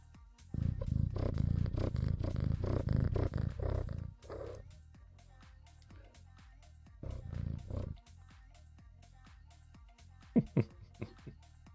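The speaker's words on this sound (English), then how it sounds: "I don't know if you can hear purring." A young, growing female cat purrs close by in low rumbling bursts, a long stretch near the start and a shorter one later, with quiet gaps and faint clicks between.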